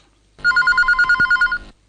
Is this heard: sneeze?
no